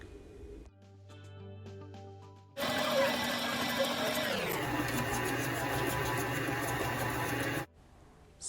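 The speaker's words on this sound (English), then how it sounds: "I will turn off my stand mixer." A stand mixer kneads teff and quinoa injera dough after a quiet start with faint hums, its motor whirring loudly and steadily, then dropping in pitch partway through before it cuts off near the end.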